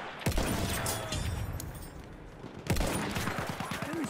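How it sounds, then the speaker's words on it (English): Bursts of automatic machine-gun fire in a military shooter game, rapid rattling volleys that stop and start, fairly close and moderately loud with a brief lull between them. "Machine gun, look right!"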